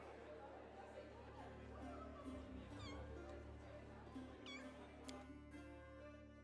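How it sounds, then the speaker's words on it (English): A small kitten meows repeatedly in the fantasy role-playing game Pathfinder: Wrath of the Righteous, its faint cries set over soft background game ambience and murmuring. "Oh, I heard a little cat."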